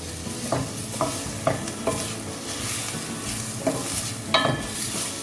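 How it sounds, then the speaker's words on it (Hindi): Lentils (dal) being stirred in hot ghee in a pot for palak dal, a steady sizzle with several distinct scraping strokes of the spoon, close and fairly loud, no talking. "तो दाल को थोड़ा सा हम स्टेयर कर लेते हैं।"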